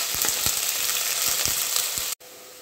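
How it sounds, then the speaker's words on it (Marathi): Finely chopped medium onion frying in hot oil for paneer bhurji, a close, loud, dense sizzling hiss with soft rhythmic stirring taps, then a sudden brief cut near the end. "तेल छानपैकी गरम झालेले आहे। आपण त्यामध्ये आता एक मध्यम आकाराचा कांदा बारीक चिरून घेतलेला होता तो ॲड करणार आहोत।"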